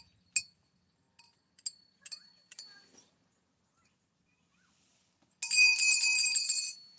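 Small metal pieces being assembled into a wind chime clink and ring in a few scattered bright taps, then a louder sustained jangle of several pieces ringing together near the end, close and clear with no talking.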